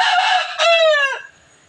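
A single loud rooster crow, close by, rising and then trailing off into quiet.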